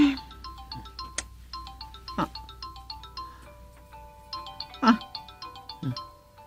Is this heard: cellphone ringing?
yes